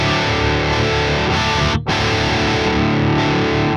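Heavily distorted electric guitar chords through a Bogren BH4 plugin, loud and saturated, with a brief cut in the middle before the dense fuzzy tone resumes.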